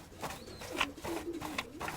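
Soft, low pigeon coos repeat close by in a gentle rolling rhythm, with a few light rustles as the pigeons pluck at something.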